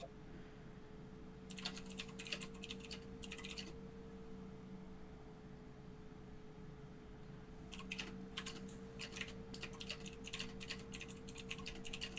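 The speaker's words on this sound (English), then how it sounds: "Uh-oh, he's typing away." Two bursts of rapid typing on a computer keyboard, quiet clicky keystrokes separated by a pause, over a low steady hum.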